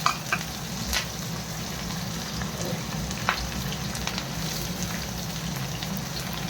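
Onion, green chilli and garlic fry in oil in a wok, giving a steady, close crackling sizzle with scattered sharper pops and no voices.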